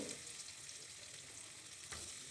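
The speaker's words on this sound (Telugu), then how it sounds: "తర్వాత అదే నూనెలోన మనము క్యారెట్ ముక్కలు కూడా వేసి వేయించుకోవాలి." Carrot pieces fry in hot oil with a steady, close sizzle that runs throughout, with a brief louder crackle near the end.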